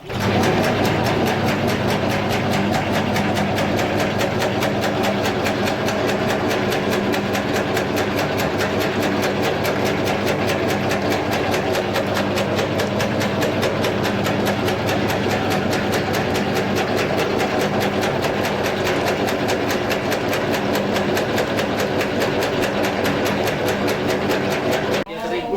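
A meatball molding machine runs steadily for the whole stretch, a loud, continuous mechanical drone with a dense rattling texture and no pauses, with voices speaking faintly underneath.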